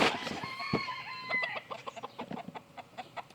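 Polish and Andalusian bantam chickens in farm pens cluck and crow close by, a sustained crow early on followed by a run of short, rhythmic clucks, with no talking.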